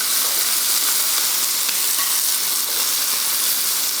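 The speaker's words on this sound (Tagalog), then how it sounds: "Pinapan-fry lang natin ang bahagya to para sa texture." Chicken pieces pan-frying lightly in oil for Filipino adobo, giving a steady, close, dense sizzle and crackle that holds at an even loudness throughout with no talking.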